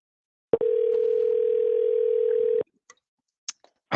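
A telephone ringback tone on an outgoing call, one steady two-second tone starting abruptly and cutting off, followed by a few faint clicks and brief sounds.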